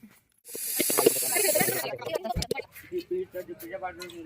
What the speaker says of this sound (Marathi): डायरेक्ट फोडणी टाकतो